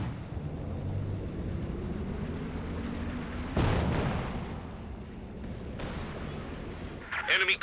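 An incendiary grenade goes off in Company of Heroes 2, a short burst near the middle over steady distant battlefield rumble, with crackling fire afterward and a commentator talking throughout.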